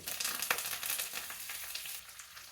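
Curry leaves, green chillies and a pinch of asafoetida crackle and sputter in hot oil, a dense close hiss with sharp pops, loudest near the start and easing toward the end; no voices.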